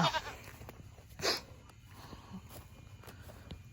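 A billy goat gives a short, harsh bleat near the start, followed by quieter rustling and small farmyard noises, heard close in an outdoor setting.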